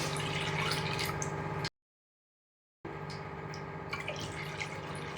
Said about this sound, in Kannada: ಅದೇ ಬಟ್ಲಿಂದ ನಾನು 2 ಬಟ್ಲ ನೀರು ಹಾಕ್ತಾಯಿದ್ದೀನಿ